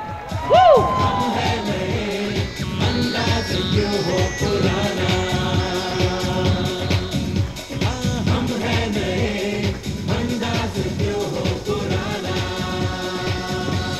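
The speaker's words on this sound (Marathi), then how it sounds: "जोरदार टाळ्या यासाठी." Audience at a school annual function cheering and shouting, a crowd of many voices whooping and yelling continuously over music-like tones, loud and sustained throughout.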